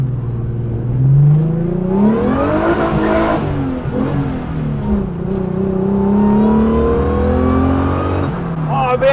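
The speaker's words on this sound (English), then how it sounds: "You can hear that supercharger whine there, can't you?" A supercharged engine in a Mk1 Ford Escort rebuilt with Sierra and Mondeo ST parts revs up and down close by, rising and falling tones with a high supercharger whine riding over the engine note, loud and continuous.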